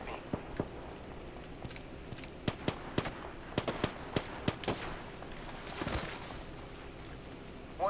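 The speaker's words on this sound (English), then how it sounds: "The enemies are shooting at me." Enemy gunfire in the shooter game Apex Legends, a run of sharp shots at uneven intervals, some clustered in quick bursts, heard over a steady background of game noise.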